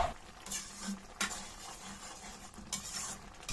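A spoon stirs simmering ground pork in a pot, giving a few scraping, clattering strokes with soft bubbling underneath, close and moderately loud with no talk.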